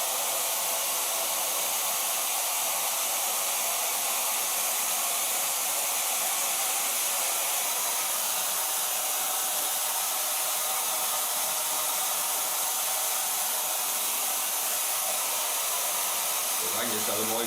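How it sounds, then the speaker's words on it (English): A hair dryer fitted with a diffuser, drying wavy hair, blowing with a loud, constant, unbroken roar throughout, its tone shifting slightly just before the end. "I'm going to dry this with a light diffuser."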